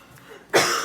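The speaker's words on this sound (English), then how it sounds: "If you're going to cough, don't cough on the food." A person coughs once, a sharp close burst after a short quiet stretch, while cinnamon rolls are being made in a home kitchen.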